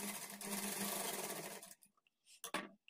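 A sewing machine stitches the edge of fabric for a blouse latkan tassel, a fast steady whirring hum close by for about a second and a half, then a few short taps and clicks as it stops.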